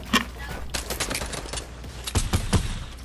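Rapid bursts of gunfire in the Fortnite video game crackle in short clusters, including a tight volley of several shots near the end, moderately loud with faint background game noise.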